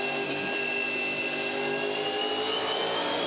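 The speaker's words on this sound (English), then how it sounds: "How good's the stereo sound? Holden to the left, Ford to the right." V8 Supercars Holden and Ford race cars roar past at a 2015 Ipswich SuperSprint race. The engines give a loud, sustained high-pitched whine and drone with no talk over it.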